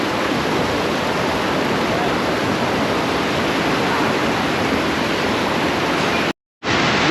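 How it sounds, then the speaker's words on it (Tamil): Water pouring over the check dam on the Kosasthalaiyar river, a steady loud rushing roar that continues unbroken until a brief dropout near the end. "தண்ணி ஃப்ளோ செம்மையாக இருக்குது"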